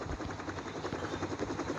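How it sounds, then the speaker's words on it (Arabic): Giant aircraft in the mobile game Rope Hero 3, a quiet, continuous rotor-like chopping drone with rapid rhythmic pulses, faint and alone. "دلوقتي حصلنا طبعا على الطائرة العملاقة دي"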